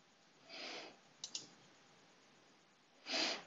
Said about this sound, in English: Click on plus.